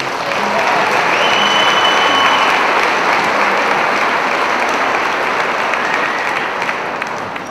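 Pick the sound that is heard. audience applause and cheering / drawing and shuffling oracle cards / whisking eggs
audience applause and cheering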